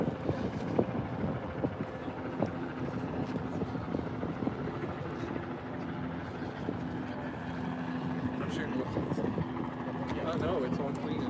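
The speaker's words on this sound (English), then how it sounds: "Still that same chopper in the air up here. News chopper." A news helicopter hovers and circles over the water near the Oakland docks, making a steady, moderately distant rotor drone with wind buffeting the microphone throughout.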